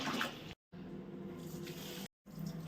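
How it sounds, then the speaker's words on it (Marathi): Water runs and splashes while finger millet grains are being rinsed, a steady gush cut by two brief silences. "आता अशाच प्रकारे मी ही 5 ते 6 पाण्याने धुवून घेणार आहे"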